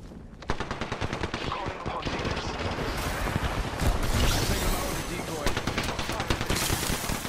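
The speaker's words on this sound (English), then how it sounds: "Shots fired." Rapid automatic gunfire rattles in the Apex Legends video game, with dense bursts of shots and a heavier volley near the middle, and a voice talks intermittently underneath.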